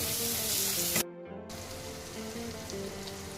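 Spice paste for a crab curry sizzling loudly in hot oil, then a brief hush as water goes into the pan, followed by a steady softer bubbling fry.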